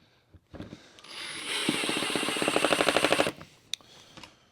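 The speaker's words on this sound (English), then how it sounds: "And we'll drive in the rest of the screws and put on the other board." A power drill drives a screw into wood while assembling a flip-top tool cart for a jointer and planer, giving one sustained whirring burst with a rapid ratcheting pulse near the end, then a brief click.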